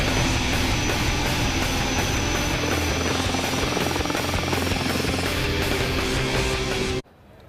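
A HAL Light Combat Helicopter returns to the tarmac with a loud, close, steady rotor chop and engine roar that cuts off abruptly at the end.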